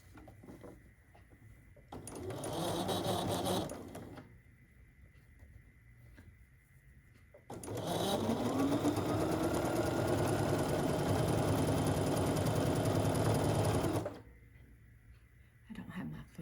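Sewing machine stitching quilt pieces for a block-of-the-month project, running loud and steady in two bursts, a short run and then a longer one of about six seconds, with quiet pauses between.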